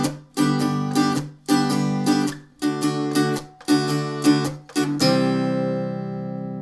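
Acoustic guitar riff from a country song, played alone: several rhythmic strummed bursts with muted chops between them, closing on a ringing chord that fades out.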